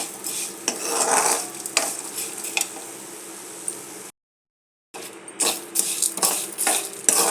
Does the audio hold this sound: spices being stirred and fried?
yes